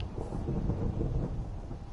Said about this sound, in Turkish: bir de gök gürültüsü de geldi